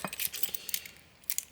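Old metal Harley keys jangling and clinking as they are handled, bright irregular jingles in bursts across the clip, close and fairly loud with no talk.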